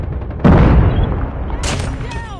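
A heavy bomb-like explosion in a video game shooter: one sudden loud boom with a rumbling decay, followed by a sharp crack, with a voice talking faintly around it.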